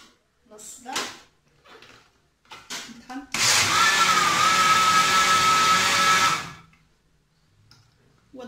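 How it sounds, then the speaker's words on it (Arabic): A kitchen blender grinds ingredients for a simple cold flan-style dessert in one loud, steady burst of about three seconds that stops abruptly. Someone talks before it starts. "دغيا كيتطحن"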